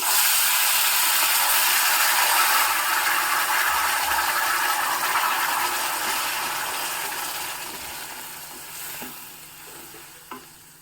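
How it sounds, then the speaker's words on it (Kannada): Ground chutney simmers gently in a pan after a tempering with curry leaves, giving a steady, dense sizzling hiss that slowly fades over the clip, with no voices. "ನೋಡಿ ಸಣ್ಣದಾಗಿ ಕುದಿ ಬರ್ತಾ ಇದೆ"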